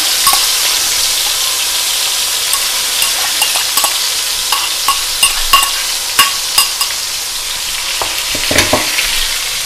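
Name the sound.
onion paste frying and being stirred in a pan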